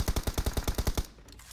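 Rapid automatic gunfire in a shooter video game, a steady burst of about ten evenly spaced loud shots that stops abruptly, followed by a brief quiet tail with no talk.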